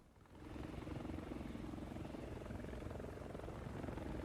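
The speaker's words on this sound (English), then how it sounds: "this is me bringing in my helicopter" A helicopter in the War Thunder video game flies in, its rotor and engine fading up quickly and then holding as a steady, even, thrumming drone with no talk over it.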